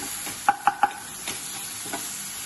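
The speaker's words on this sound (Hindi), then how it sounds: "हल्दी डाल देते हैं फ्रेंड्स, और इसको अच्छे से स्टर कर लेंगे" Turmeric being stirred into a hot, sizzling pan for restaurant-style Chicken Patiala, with three sharp close scrapes of the spoon in quick succession over a steady low sizzle, then a couple of softer stirs.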